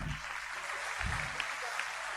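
An audience at a school awards night applauds the students, giving steady, fairly quiet clapping throughout with a faint voice underneath.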